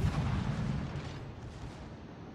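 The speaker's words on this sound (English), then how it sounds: "I'm able to shoot the Attago undetected." Naval guns fire from a ship in World of Warships, a heavy, booming salvo that rolls into a dense, rumbling roar and slowly tapers off, loud and close, with no speech over it.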